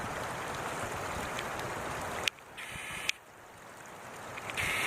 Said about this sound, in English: here's the little spring coming, water coming right out of the ground right here.